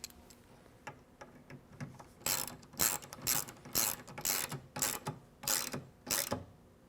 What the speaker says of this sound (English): Coming back with our T30s to tighten these up.